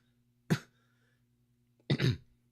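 A man clears his throat and coughs, two short, sharp bursts about a second and a half apart, close and distinct against near silence with a faint hum underneath.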